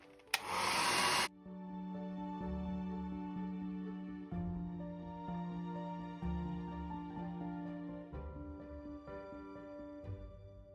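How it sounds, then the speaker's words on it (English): A hairdryer blows steadily across a watercolour painting of a fall leaf, drying it with a loud, continuous whine that shifts slightly in pitch, following a brief burst of broadband noise at the start. "I usually use my hairdryer"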